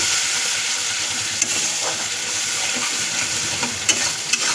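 Chilli paste and spices sautéed in a pan, a dense continuous sizzle and hiss with a few soft clicks of the stirring spoon; near and fairly loud, with no talking.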